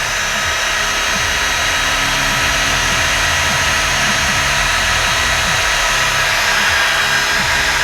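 Steady, loud blowing roar of a heat gun set to 450 °F, reheating and softening the casing on a double-shielded PWM control cable, continuous and unbroken throughout with a faint low hum underneath.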